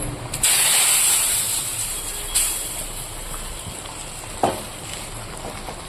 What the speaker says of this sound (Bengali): আদ্রকটা দিয়ে একটু লাল লাল করে ভেজে নেবো ফোড়নটা হয়ে গেছে